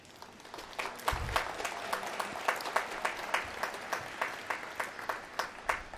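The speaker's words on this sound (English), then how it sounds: "I'll let Tim and Cory know you applauded." Audience applause during a Harvard Law School Class Day keynote speech, heard as distinct, fairly distant claps in a steady scattered rhythm over about six seconds, with no talking.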